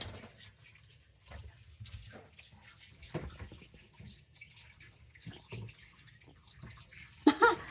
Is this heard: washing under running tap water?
yes